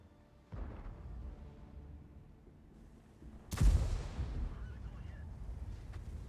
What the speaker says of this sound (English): Okay, so that was another shot.